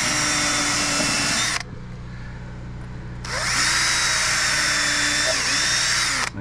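Power drill driving screws into tongue-and-groove floorboards in an A-frame cabin: two loud whirring bursts with a quiet pause between, close by, with a brief voice in the gap.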